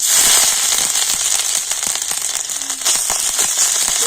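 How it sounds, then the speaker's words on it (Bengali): Whole cumin seeds sizzle in hot oil with a dense, loud crackle and sharp popping bursts that continue for the whole clip. No voices are heard. "আর এবার আমি তেলের উপর দিয়ে দেব গোটা জিরে তো অল্প একটু গোটা জিরে দিয়ে দিচ্ছি"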